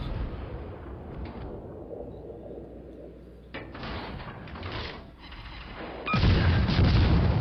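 Naval gunfire from a World of Warships Legends battle pounds the Nagato battleship, heard as muffled booming impacts and rushing blasts over a steady game rumble. A heavier, louder burst comes near the end.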